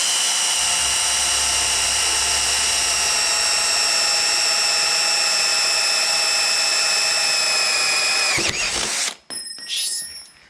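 A Matco Hyper step drill bit on an old drill grinds into hard steel with a loud, steady high whine that stops abruptly near the end, followed by brief handling noises.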